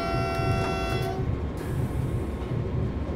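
A train in Train Simulator 2018 runs through the Gumpoldskirchen tunnel on the Südbahn, a steady low rumble with a sustained horn-like tone that fades after about a second, alone and close.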